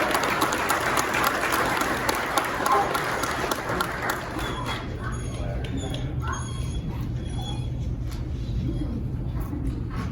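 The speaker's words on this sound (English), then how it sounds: "A round of applause for K9 Riggs." An audience at the 2021 Kenosha County Sheriff's Department promotion and awards ceremony gives sustained applause in a hall. The dense clapping starts loud and thins out gradually over about ten seconds.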